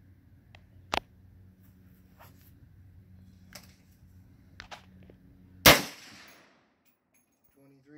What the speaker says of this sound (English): This is going to be shot two with a 21-inch barrel.